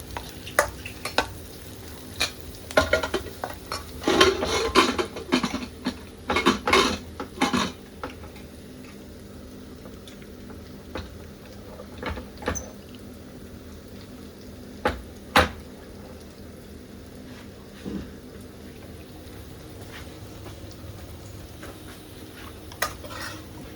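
Potatoes and bell peppers stirred in a frying pan, with a soft sizzle beneath irregular scrapes and clinks of a utensil against the pan, busiest early on and thinning to occasional taps later.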